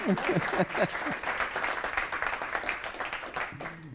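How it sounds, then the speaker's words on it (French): An audience at an awards ceremony claps together in a dense, sustained burst, with a few voices calling out at the start and a voice coming in as the applause continues. "Et on peut les applaudir."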